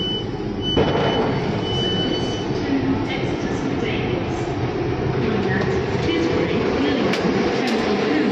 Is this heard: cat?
no